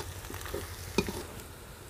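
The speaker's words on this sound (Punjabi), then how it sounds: "ਬਸ ਥੋੜ੍ਹੀ ਜਿਹੀ ਦੇਰ ਆਪਾਂ ਇਹਨੂੰ ਹੋਰ ਭੁੰਨਾਂਗੇ" Masala spices roasting in a hot pan for an aloo baingan sabzi, giving a steady close sizzle and fry hiss with a few soft stirring scrapes and one brief sharper clink partway through.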